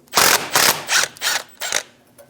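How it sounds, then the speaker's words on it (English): A ratchet with a 13mm socket works a brake line bolt on a 2001-2006 Chevrolet Silverado 2500 HD: five close, crisp bursts of clicking at a steady pace, each a short run of pawl clicks, with no talk. "Using a 13mm socket, remove the bolt for the brake line."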